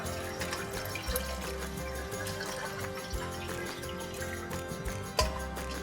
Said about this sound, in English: I drain this water off.